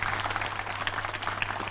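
An audience at a Bali peace gathering applauds, a dense, even patter of many hands held at a steady level with a low hum underneath.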